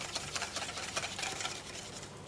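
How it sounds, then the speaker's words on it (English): A whisk beating boiling cream into egg for a passion fruit crème brûlée, a quick rhythmic swishing and clicking against the bowl, steady and fairly quiet with no voices. "Now we're just going to whisk that in slowly because you are whisking it into egg"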